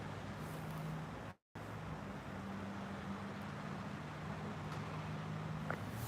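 A car passing at a city intersection, a steady roadway hum with low engine drone that holds throughout, briefly cut out, with traffic noise around and no talking.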